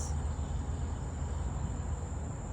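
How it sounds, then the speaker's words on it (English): Insects chirp outdoors in a steady, continuous high-pitched drone that runs unbroken through the whole stretch, with a low background rumble beneath and no talking. "Y'all hear that? Insects singing."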